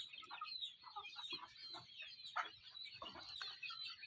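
Village hens clucking with a rooster among them in a farmyard, soft scattered calls that are fairly faint and somewhat distant, with no speech.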